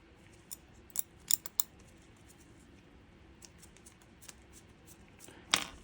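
Small scissors snip in a few quick, crisp clicks close by while thread is trimmed during a Seiko Turtle NH35 watch mod, with a faint snip again near the end and quiet room sound between.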